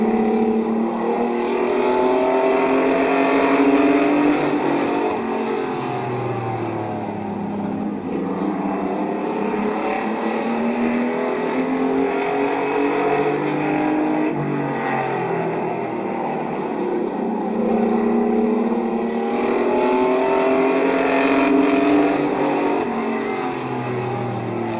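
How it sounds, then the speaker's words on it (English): Race trucks at Midvale Speedway roar around the oval, engines rising and falling as they pass close by and draw away, a loud continuous drone with no voices heard over it. "And Martin will eliminate the 77 of Garlic. Down to 2 trucks remaining"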